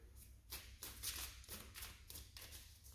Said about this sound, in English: I gotta stop shuffling like that.